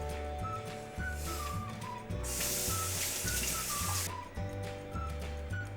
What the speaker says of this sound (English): And then I'm just gonna go ahead and rinse this off.